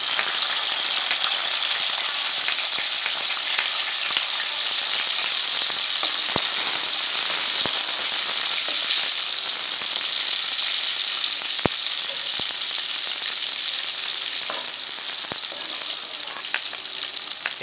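Onions hit hot ghee in a karahi for Lahori chikar cholay, giving a loud, continuous, close sizzle of frying with occasional sharp pops and stirring scrapes, and no voices over it.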